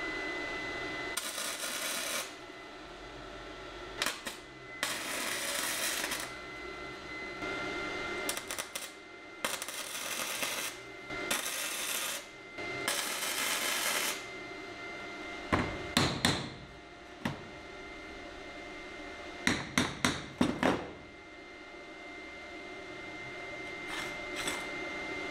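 Tack welding with a gasless MIG welder on a swing-away bar, a series of short, loud, crackling bursts in irregular spurts of one to two seconds with gaps between, then quicker brief zaps later on.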